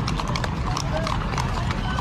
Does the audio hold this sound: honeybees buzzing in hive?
no